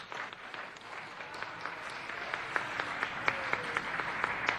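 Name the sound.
audience applause for Dodger the adoptable dog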